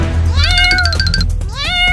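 A cat meows twice up close, the first a long, loud rising-and-falling cry and the second a shorter rising one, over a low steady hum.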